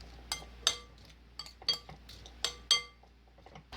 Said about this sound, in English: just stir that lemon juice up in there